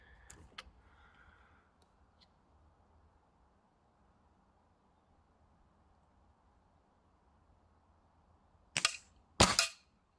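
Two sharp shots from a Diana 48 spring-powered air rifle, a quick report followed about half a second later by a louder crack, heard close after a long near-silent pause.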